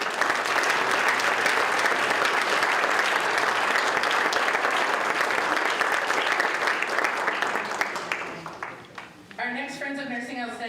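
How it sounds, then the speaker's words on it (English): A crowd claps steadily at a nurse award ceremony, sustained applause that tapers off near the end before a voice begins speaking. "Please share your applause for Amy."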